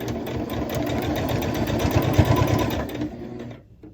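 A sewing machine stitches a quilt block seam in one continuous close, rapid mechanical run, loud and steady before slowing and stopping near the end, with no talk.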